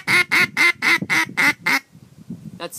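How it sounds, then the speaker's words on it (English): A duck call is blown as a hail call: seven loud, evenly spaced quacking blasts in a steady descending series, followed by softer low chatter and one short final note. "What I just did was a high ball, and this is a hail call."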